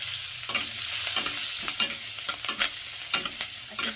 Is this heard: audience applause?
no